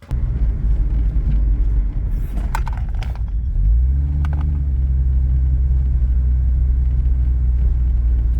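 A car rolling along after a repair to seized drum brake shoes, a steady close low engine rumble with some faint rattling and clinking early on, no talking.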